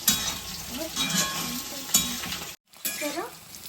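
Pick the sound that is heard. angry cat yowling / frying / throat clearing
frying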